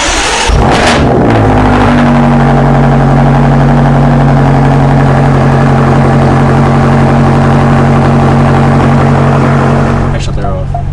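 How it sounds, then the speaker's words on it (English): A 2019 BMW F90 M5 with a DunnFab straight catback exhaust fires up and settles into a loud, steady, deep idle rumble for about ten seconds, close to the exhaust. "He just got an exhaust by DunnFab, and it's a straight catback, so it does sound really good."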